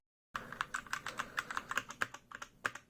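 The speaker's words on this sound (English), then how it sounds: "Oh, let's do a typing test." Quick, fairly quiet typing on a Velocifire M1 TKL61WS Bluetooth keyboard, a brisk run of separate key clicks that starts abruptly after a moment of silence.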